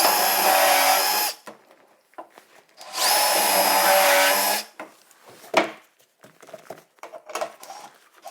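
A power drill drives a screw into the underside of a wooden staircase piece in two loud, steady bursts of about a second and a half each, separated and followed by clattering handling and knocking noises.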